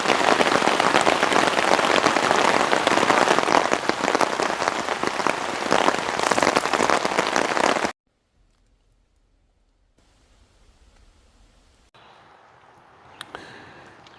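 Heavy rain pounds down on a hammock campsite in a storm, a loud, dense, steady hiss of drops for about eight seconds, then quiet stretches with faint patter and a few louder drips.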